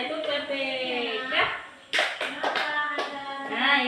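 A class performs a clapping chant, with voices singing or chanting in unison punctuated by a few sharp hand claps; the voices dominate and the claps come through in brief bursts.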